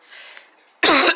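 A short burst of a single harsh cough, loud and close, after a faint breathy lead-in.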